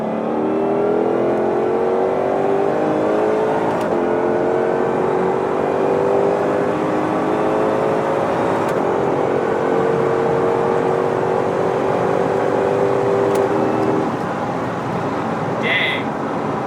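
A 2021 Ford Shelby GT500 pulls hard from 60 mph, its engine roaring loud and steady with rising harmonics for about fourteen seconds before easing off, with road and wind noise underneath.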